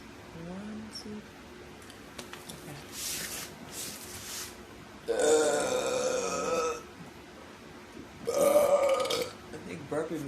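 Two long, loud, gravelly burps ring out clearly one after another, separated by softer mouth noises and breathing.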